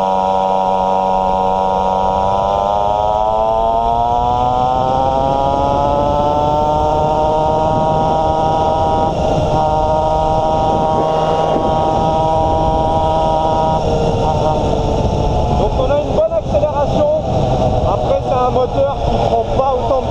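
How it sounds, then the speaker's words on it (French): A pocket bike fitted with a big-bore kit, racing ignition and racing exhaust revs at full throttle close by, its engine pitch climbing over several seconds and holding a loud, buzzing high note before wavering near the end. "je vais accélérer un coup à fond et vous allez voir l'évolution du régime moteur"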